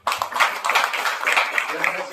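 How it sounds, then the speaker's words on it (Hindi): A church congregation at a Sunday service breaks into loud clapping, a dense, steady wash of many hands applauding together for the full two seconds. "एक जोरदार ताली बजाइए।"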